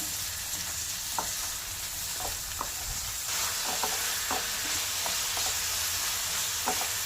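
Carrots frying in a hot pan, a steady loud sizzle with intermittent scraping taps of stirring throughout.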